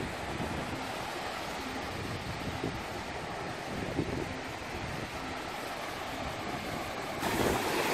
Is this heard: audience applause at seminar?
no